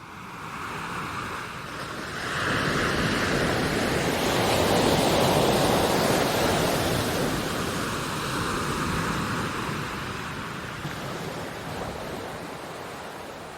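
Sea waves wash steadily onto a Mediterranean beach shore on a warm summer evening, a broad continuous surf that swells louder in the middle and eases off again, with some wind noise and no voices.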